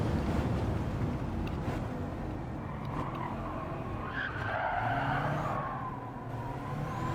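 A car in a racing video game slides and skids as the handbrake is pulled, a continuous rushing tire-and-engine roar that swells and holds steady through the whole stretch, with no talking.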